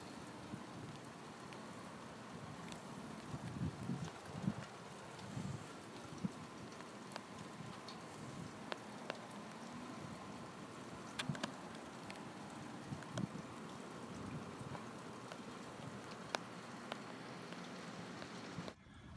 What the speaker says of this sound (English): I just wanted to let y'all see that it is still raining. It's been raining all day.